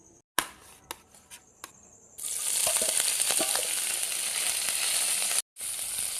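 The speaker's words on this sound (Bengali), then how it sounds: "শুটকি মাছগুলোকে একটুখানি তেলে ভালো করে ভেজে নিতে হবে" Dried fish (shutki) hits hot oil with a sharp onset into steady, loud sizzling frying that fills most of the clip, preceded by a few knocks and clinks, with a brief cut near the end.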